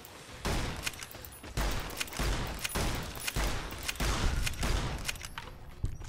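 Gunfire in Fallout New Vegas, a run of about a dozen sharp, fairly loud shots in uneven bursts and single cracks with brief gaps between them.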